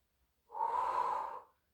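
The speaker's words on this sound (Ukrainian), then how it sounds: "Вдих і видих. Ще вдих. Видих." A single long, close breath during a pilates exercise, rising to a steady, airy rush for about a second and then fading out in quiet surroundings.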